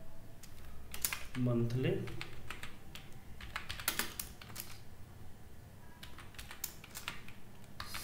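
Keyboard typing in an Excel spreadsheet, a run of quick clicks spread through the clip, close and fairly clear, with a voice speaking briefly near the start.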